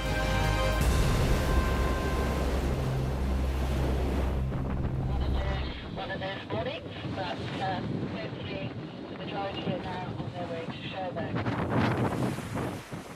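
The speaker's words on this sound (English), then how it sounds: "The wind and waves of the Solent" Strong wind buffets the microphone as waves of the Solent rush and splash during a sailing race; a low droning tone sounds during the first few seconds.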